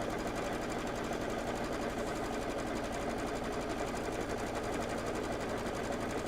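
A sewing machine runs a tack-down stitch on a Kimberbell table topper, making a steady, fast mechanical whir that holds unbroken from start to finish, close up and with no voices.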